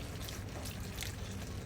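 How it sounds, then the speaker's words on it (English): Water is poured into a cooking pot while making baby octopus stew, a steady, close splashing pour that runs the whole short moment with no talking. "just add a little bit of water"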